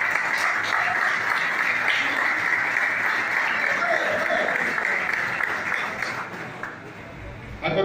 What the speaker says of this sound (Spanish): así que fuertes aplausos para ellos